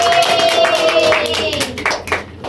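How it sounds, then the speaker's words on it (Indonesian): Classmates applaud together in a school classroom during a teaching practice lesson, a brisk patter of many hands clapping for a couple of seconds, with a voice faintly audible through it. "Kita kasih aplaus kepada teman-teman"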